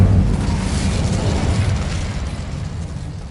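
An Incendio fire spell in Hogwarts Legacy erupts as a loud, roaring burst that opens with a heavy boom and then crackles and rumbles evenly before easing off, with no talking.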